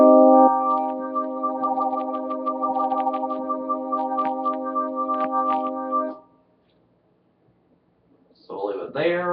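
A Casio CTK-7000 drawbar organ chord with rotary speaker effect, rise acceleration set to 40, sustains loud and steady for about six seconds, then cuts off into silence before a voice starts speaking.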